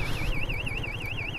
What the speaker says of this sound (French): j'ai l'alarme de la moto qui se met en route